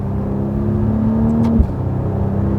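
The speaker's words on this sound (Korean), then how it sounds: "다운시프트 할 때 6기통에서는 할 수 없는 그런 소리가 같은데." A car engine with a ZF 8-speed automatic hums loudly during a downshift, its steady tone dropping in pitch with a brief thump at the shift before settling into a lower rumble.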